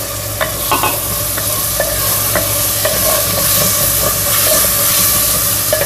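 Okra is stirred in a clay pot with cooked-down tomatoes for a traditional curry. A loud, steady sizzle runs under repeated clinks and scrapes of the spoon against the pot, with no speech.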